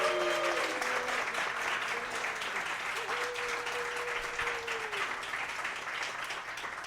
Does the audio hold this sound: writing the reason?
no